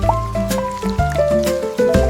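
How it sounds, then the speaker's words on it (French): Raindrops fall on a hat in a children's nursery rhyme, heard as bright, watery plinks and drips in a steady, drum-like rhythm. The sound is close and loud, with tuned, musical tones. "Chaque goutte fait plink, puis plonk, puis patte, un battement de tambour dans mon chapeau."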